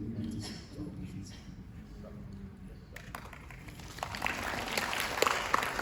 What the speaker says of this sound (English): after every single panelist shares, all of them clap